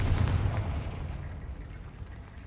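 A Confringo fire spell bursts in Hogwarts Legacy with a loud, deep boom at the start, then rumbles and fades over the next two seconds.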